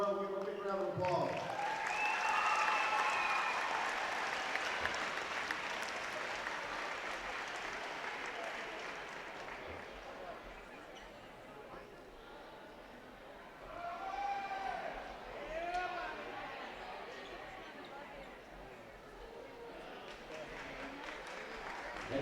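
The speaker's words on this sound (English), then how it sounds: "give her a big round of applause" Applause from the crowd in a school gymnasium during an honors ceremony at a Loretto at Summertown boys basketball game. It is loud at the start and then fades to a softer, sustained clapping, with faint voices and cheers carrying through.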